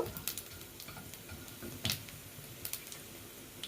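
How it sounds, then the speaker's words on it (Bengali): Cumin and coriander seeds crackle and sizzle in hot oil for a chicken Kolhapuri dish, a soft steady frying hiss with a few sharp pops and stirring clicks, close and alone without talk. "এবার এই তেলের মধ্যে একে একে জিরে আর ধনেটা দিয়ে দেব তারপর একটু নাড়িয়ে চাড়িয়ে নেব"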